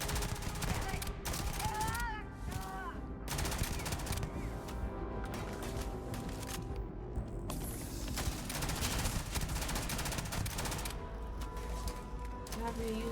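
Rapid, continuous weapon fire in the Starfield video game, a dense barrage of overlapping blasts and mechanical clatter running throughout, loud and sustained, with game effects mixed in.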